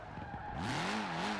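A Mini car in Forza Horizon 4 skids, with a rising, wavering tire squeal over a steady engine drone. The squeal is moderately loud and lasts a second or so.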